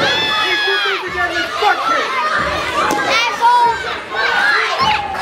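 Wrestling crowd at a tag-team match chanting together, a dense roar of many voices with rhythmic shouted syllables and high children's voices rising over it, steady and loud throughout.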